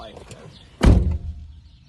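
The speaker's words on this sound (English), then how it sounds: "He opened the door." A car door thunks shut or swings with a single solid close near the middle, loud and close, followed by fading rustle and low background noise.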